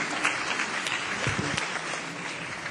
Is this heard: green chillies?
no